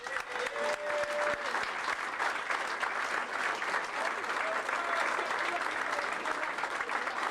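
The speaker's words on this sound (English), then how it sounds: "Huge round of applause for Bill Stokeld." Sustained applause from an audience at a long-service award presentation, dense steady clapping filling the whole stretch with a brief voice audible near the start.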